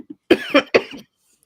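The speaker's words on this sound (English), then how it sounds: "my cough is starting up again" A burst of three harsh coughs in quick succession, close and fairly loud, with a couple of small throat sounds before and silence after.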